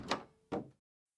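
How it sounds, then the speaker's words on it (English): A hidden door behind a painting swings open in a steampunk audio drama, heard as two close, short bursts of creaking wooden movement and a thud, then silence. "He opens a hidden door behind a painting and steps through"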